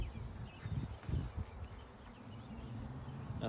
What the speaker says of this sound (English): so all the bees are in the hive today.